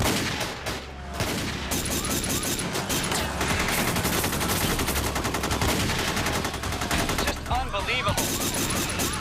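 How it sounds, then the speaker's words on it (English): Gunfire during the North Hollywood bank shootout, dense near-continuous bursts of automatic rifle fire and overlapping shots, loud and sustained, with voices shouting in the background. "Shots are firing everywhere."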